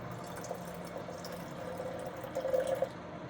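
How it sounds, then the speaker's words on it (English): Water poured into a jar while feeding a sourdough starter, a soft quiet trickling fill that rises slightly toward the end, close by and alone. "I'm going to add 80 grams of water"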